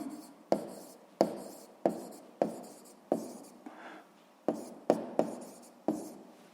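A pen writes an equation's root in a notebook, making a dozen or so sharp, close taps and short scratching strokes in an uneven rhythm, with no voices.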